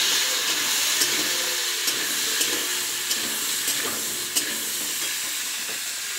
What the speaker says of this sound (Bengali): এই তেলটা গরম হয়েছে, আলুগুলো ভেজে নিই